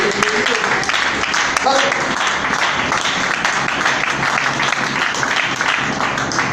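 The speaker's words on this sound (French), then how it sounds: "Est-ce que nous pouvons applaudir la parole de Dieu?" A church congregation applauds, a dense wash of clapping and crowd noise mixed with voices, loud and continuous throughout.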